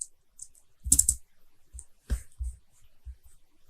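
Keys on a computer keyboard are tapped in short bursts while a password is entered, a few close clicks and a firmer press, separated by quiet pauses.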